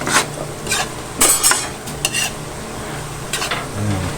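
Spicy snail adobo (adobong kuhol) stirred in a pan of spattering oil, with intermittent scraping and clinking strokes over a low, steady sizzle.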